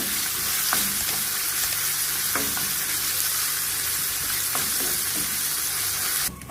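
Onion and spices frying in a pan, a loud, steady close sizzle with occasional faint stirring taps, no talk.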